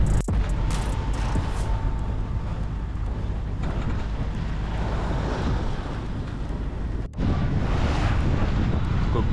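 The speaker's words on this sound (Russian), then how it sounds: "Ну, волна уменьшилась, да, смотри, но все равно такая вся, блин, не океанская." Open-ocean waves and strong wind on a boat crossing from Turks and Caicos to the Dominican Republic, a constant loud roar of wind buffeting the microphone over churning water, with a couple of sharp knocks.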